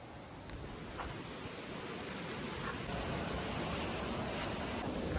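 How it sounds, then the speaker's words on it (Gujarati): Heavy rain pours down over a village in a dense, even hiss that holds steady and grows slightly stronger throughout, with no voices. "કેમ કે આ બધું વરસાદ આવે છે પાછો"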